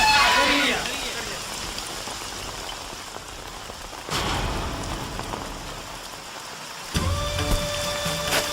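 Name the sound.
rain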